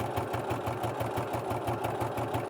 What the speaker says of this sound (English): I am going to sew it just to the lining.